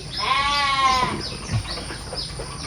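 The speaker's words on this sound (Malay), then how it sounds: "Ada kambing kat sini." A goat bleats loudly at a village home in Malaysia, one long quavering call followed by quieter bleats and faint farmyard background.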